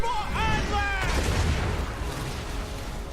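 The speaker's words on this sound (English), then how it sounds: "I got my mortars firing in on them." Mortars firing in a video game: thin whistling tones give way to a loud thumping burst, then a broad rumble that slowly fades.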